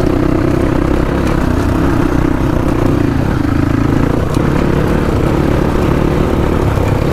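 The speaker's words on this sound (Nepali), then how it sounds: "R15 एक्जस्ट हालेर धुवा फुत्ताउँदै" Yamaha R15 motorcycle fitted with an aftermarket exhaust idling close by, a steady loud low rumble with light clatter holding throughout, no talk over it.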